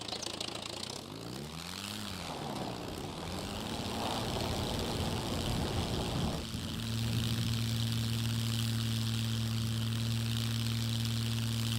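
A propeller airplane in a survival game, its engine whirring through shifting pitch sweeps before settling into a loud, steady droning hum with a strong constant tone, heard alone.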